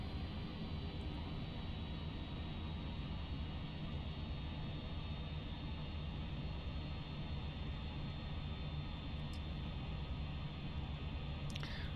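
Cessna aircraft engine at low RPM in the X-Plane 12 flight simulator, a steady unbroken drone with a constant hum and no change in level throughout, with no talking.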